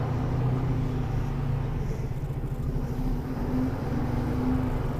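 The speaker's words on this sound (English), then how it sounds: "Oh, bit of wheel spin." A delivery vehicle's engine rumbles and drones steadily as its wheels spin on snow, a continuous low, loud roar heard from inside the cab.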